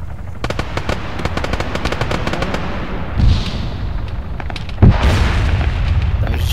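A grenade blast and gunfire in the ArmA 3 King of the Hill military game: a rapid string of sharp shots followed by two heavier booms, one mid-clip and a louder one near the end.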